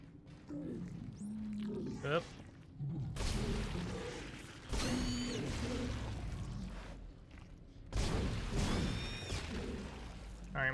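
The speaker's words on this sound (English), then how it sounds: "More cursed elevators, indeed." Elevator machinery groans and creaks in the Dead Space 2 video game, with long grinding mechanical stretches and squealing metal whines that rise in waves, alongside some talking.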